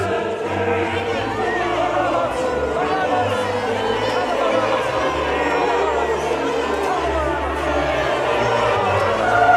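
A large outdoor crowd in Trafalgar Square shouts and murmurs in a steady, dense babble during a Passion play, with many voices overlapping and occasional louder calls rising throughout.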